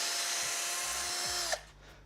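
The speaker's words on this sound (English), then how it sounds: "It didn't even require me to fully drill it off." A power drill bores into a part of a computer case in a steady, loud whine that runs for about a second and a half, then stops abruptly, leaving faint clunks and quiet after.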